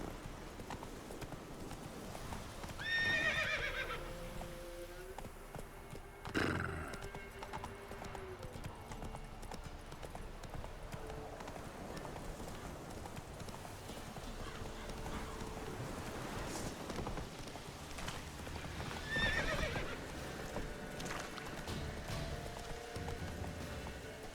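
Hooves of Roach, a horse in The Witcher 3: Wild Hunt, clip-clop at a steady trot or gallop across the whole stretch, broken twice by a sharp whinny, over a quiet outdoor wind bed.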